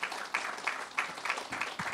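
A small gathering claps in a rhythmic round of applause for a woman who organized an auction, a handful of hands beating in steady pulses roughly three per second, moderately close.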